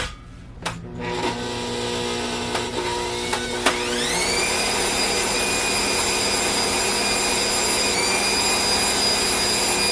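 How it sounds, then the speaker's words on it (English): An electric mixer creaming butter and sugar starts with a few clicks and knocks, then whirs up to a loud, steady high-pitched drone that runs nearly uninterrupted to the end. "So what I'm going to do now is cream the butter and sugar."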